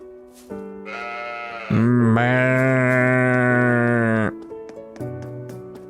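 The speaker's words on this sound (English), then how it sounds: "And the sheep up here." Sheep in the Trails of Cold Steel 4 video game give a few loud, drawn-out bleats, the longest a sustained wavering cry, with short calls before and after and no talking.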